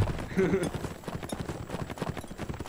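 In a video game battle, rhythmic horse hoofbeats clip-clop quickly under a voice, with a brief horse whinny near the start and game background noise.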